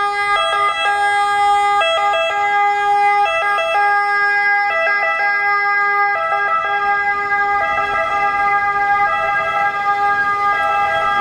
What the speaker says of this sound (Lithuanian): Įtariu, kad greitoji pagalba Italijoje nėra labai greitoji, nes labai lėtai braunasi.